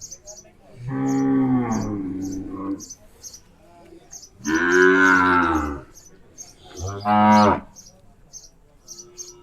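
A Khosa Khillar cow moos three times at a Khillar cattle show in Chimangaon. The long, loud calls sound close, with faint repeated chirps in the background.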